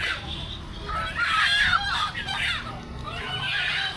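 A rooster clucks and calls at a busy roadside market in Purbachal's 300 Feet area, near Nila Market, amid a constant wash of crowd noise and voices.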